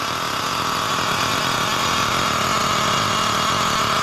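A small nitro engine with a freshly tuned carburetor runs steadily at a high, buzzing idle, loud and close with a constant drone and no voices.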